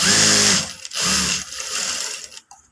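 A sewing machine runs in loud mechanical bursts while stitching part of a Katori blouse, with a short pause between runs and a quieter whirring stretch before it stops.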